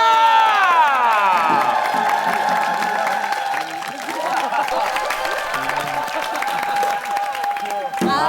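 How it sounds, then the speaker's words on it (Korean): A studio audience on a Korean TV show cheers and applauds loudly before a Jindo Arirang performance, with whoops and shouts over the clapping, which fades as singing and music take over. "큰 박수로 채워보도록 하겠습니다"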